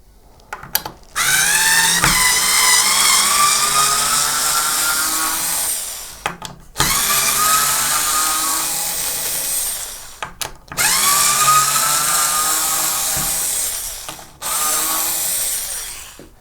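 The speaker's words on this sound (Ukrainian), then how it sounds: "За допомогою такої викрутки ми можемо вдома декілька гвинтів закрутити." A WMC TOOLS electric screwdriver from a home hand tool set drives screws, giving long steady whirring runs of several seconds each, separated by brief pauses, close up with no talking.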